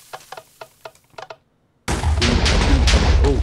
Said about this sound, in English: Oh, did I just hear explosions?